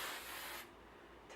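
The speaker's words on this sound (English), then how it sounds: "I just spray and kind of comb through it." A single short, soft hiss of a spray bottle misting hair product, fading after about half a second, with a faint second puff at the end.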